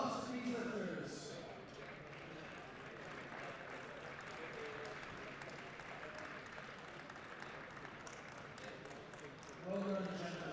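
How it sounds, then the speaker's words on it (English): An audience claps steadily for the junior classic lifters at a world bench press championship, with the applause running throughout and an announcer's voice heard briefly at the start and end. "a round of applause for these lifters"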